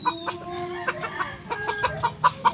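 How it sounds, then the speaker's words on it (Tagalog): Chickens cluck close by in a rapid string of short, throaty clucks, several birds overlapping in an uneven rhythm. "Wala nang sisiw dyan."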